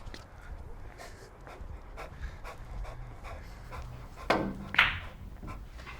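A dog pants rapidly and steadily while out on a walk, fairly close and moderately quiet, with a couple of brief sharp knocks and squeaks breaking in near the end.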